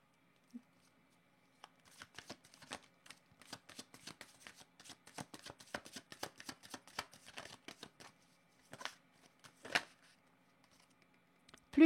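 Tarot cards are shuffled by hand, a long run of quick crisp riffling flicks close up and fairly soft, followed by a few separate slaps and taps of cards in a quiet room.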